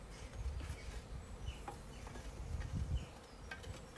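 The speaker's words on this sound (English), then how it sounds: "he's brushing the bees out there" A swarm of bees buzzes as they are brushed out, a faint, dense hum with scattered individual buzzes drifting in and out close by.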